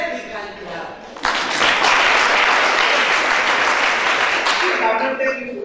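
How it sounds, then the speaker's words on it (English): A crowd at a university human rights competition breaks into loud, dense applause welcoming a High Court justice, starting abruptly after a brief voice and holding steady for several seconds before fading. "Please welcome with a very big hand clap."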